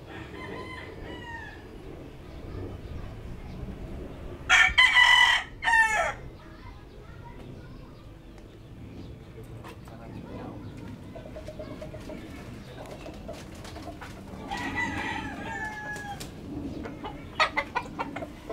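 A rooster crows loudly once, with fainter clucks and bird calls scattered through a quiet outdoor background, and another short burst of crowing near the end.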